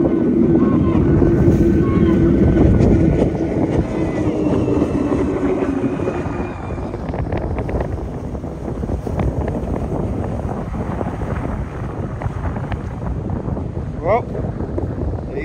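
Center console powerboats racing, an Avanti with triple 400 outboards against a 34 Scarab with quad 400s, roar past on open water with steady loud engine drone and heavy wind buffeting the microphone throughout.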